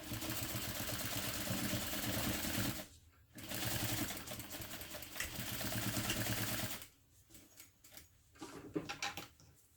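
A home sewing machine runs a back stitch on fabric, whirring steadily in two long bursts broken by a short pause, then trailing off into quieter stop-start stitching.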